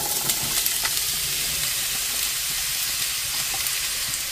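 Onions and cumin frying in oil, a steady bright sizzle with faint crackles and occasional stirring clicks, close and continuous for the whole stretch with no talking.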